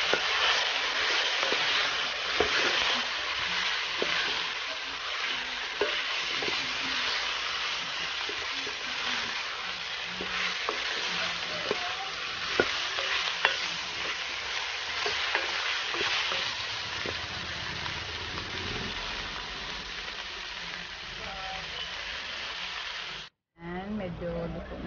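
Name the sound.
chayote (sayote) frying and being stirred in a pan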